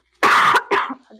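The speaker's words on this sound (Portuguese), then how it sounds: "Vou parar um pouquinho aqui para tossir." A single harsh cough burst followed by a second shorter cough, close and loud, with no talking.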